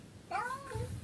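A single cat meows nearby indoors, a clear rising-then-falling cry lasting about half a second over low room noise.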